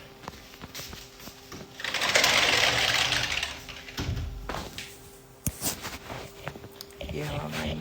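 A home printer prints its first page, a whirring mechanical feed with clicks and thunks rising and falling, while a person talks over it.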